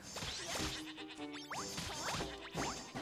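Sheep bleating in Fantasy Life, several short game-animal calls layered over busy background music and effects, repeating across a few seconds at moderate level.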